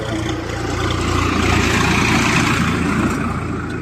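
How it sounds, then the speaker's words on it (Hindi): A tractor passes nearby outdoors, its low engine rumble swelling to a peak and then easing off as it moves away. "अभी एक ट्रैक्टर गुजर रहा था"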